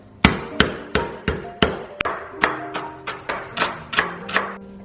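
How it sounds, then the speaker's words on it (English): Soft part of galangal bashed repeatedly for Thai red curry paste: about a dozen sharp, loud thuds in a steady rhythm, each with a brief ringing decay, close up with no talking. "I'm just going to give it a little bash to release those oils"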